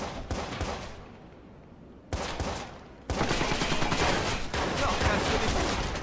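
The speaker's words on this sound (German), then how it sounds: "Auf mich wird gerade geschossen." Gunfire in the video game Watch Dogs: loud bursts of rapid shots, a sparse volley, then a sustained dense barrage over the last three seconds, with no talking.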